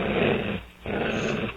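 Close, rough growling with a short pause, then another guttural snarl, like goblins barking and growling in a tabletop role-playing game.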